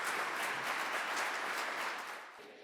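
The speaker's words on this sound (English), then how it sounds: "Please give a round of applause for this panel." An indoor audience applauds a panel at an anniversary event: a dense, steady wash of many hands clapping that tapers off toward the end.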